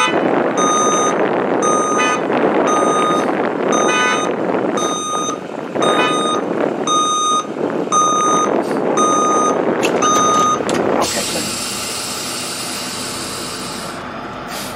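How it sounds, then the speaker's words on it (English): A truck slowly backs out of a parking spot, its reversing alarm beeping in a regular loud series over a rumbling engine, followed near the end by a long hiss of released air. "Hit the horn one more time and slowly back out of the spot."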